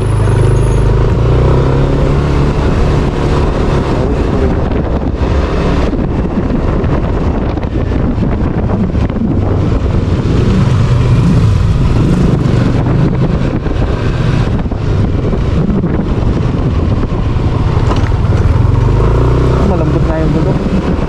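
Engine of a rider's motorcycle with soft tires, ridden toward Dingalan, drones continuously under heavy wind buffeting from a helmet-mounted camera, loud and close, with intermittent speech from the rider.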